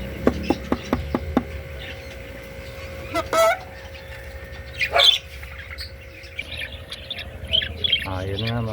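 A hen gives soft clucks and short squawks amid rustling and scattered taps, with brief chirps and a voice murmuring now and then.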